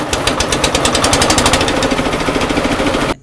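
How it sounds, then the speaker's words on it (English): A locally made wooden cassava grinding machine for garri production runs loud and close, a rapid rhythmic hammering clatter that holds steady for about three seconds before cutting off abruptly. "after we turned on the grinding machine, we started transferring some cassava into the grinder, and it was grinding so fast"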